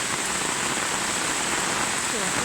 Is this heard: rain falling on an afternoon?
yes